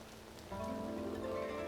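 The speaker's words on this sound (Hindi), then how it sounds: "आप देख रहे हैं बारिश हो रही है" Steady rain patters continuously in Sikkim while travelling, with a low hum joining in partway through.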